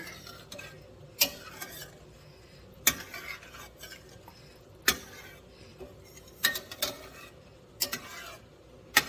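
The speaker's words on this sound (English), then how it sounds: "I'm going to stir it first to kind of see where I'm at and if I need to add more" A spoon stirs chicken and sausage jambalaya with tomatoes in a pot, making repeated sharp scrapes and clinks against the metal at an uneven rhythm, close and fairly clear over a low background hum.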